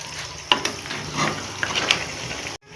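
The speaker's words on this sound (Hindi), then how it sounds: "अब गोश्त को अच्छे तरीके से मिक्स कर देंगे ऑयल के अंदर और गोश्त की भुनाई करेंगे।" Marinated beef frying in oil hisses steadily up close, with spatula scrapes and light clinks as the meat is mixed, ending abruptly in silence.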